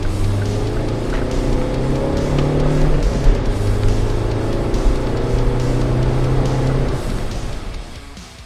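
A car cruises along an open country road, its engine droning loud and close with shifting tonal hum and road rumble, easing slightly at the end.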